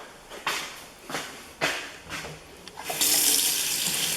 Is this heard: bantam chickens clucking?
no